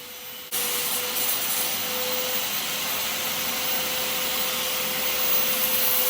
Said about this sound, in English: Sawzall's working pretty good on this one, Shawn.